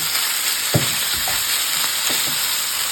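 A steady, loud sizzle of minced pork and onion frying in a pan, with a few soft scrapes of a spatula stirring underneath.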